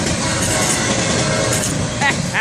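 FEC train 101 rolling past close by, a loud continuous rumble and rattle of wagons with a faint squeal near the end, while people talk over it.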